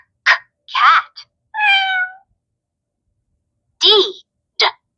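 A Leap Frog Nature ABC Board toy plays a cat sound: several short, close, loud electronic meows in quick succession, a pause, then two more meows, with silence between them.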